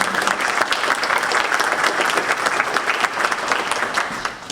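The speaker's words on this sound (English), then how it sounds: "We do a round of applause here." An audience at the Future Space 2023 conference welcome claps steadily throughout for the sponsors, a dense, even round of applause from many hands.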